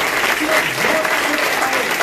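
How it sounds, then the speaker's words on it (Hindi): Church congregation claps loudly together in thanks during a Hindi-language service, a dense continuous burst of applause filling the short span, with faint voices underneath. "एक बार जोर से तालियों के साथ प्रभु का धन्यवाद करें।"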